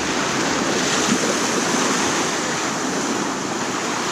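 Ocean surf washes up steadily at the edge of a beach cut, a continuous loud wash of breaking waves close by with no other sounds.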